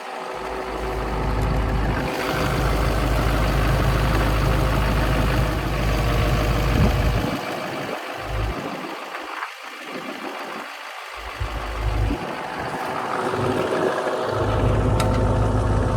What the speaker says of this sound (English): So we got the tractor going,